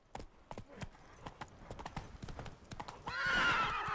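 Hooves of a horse in The Witcher 3 clip-clopping at a quick pace, close and clear, before a loud whinny rises over them near the end.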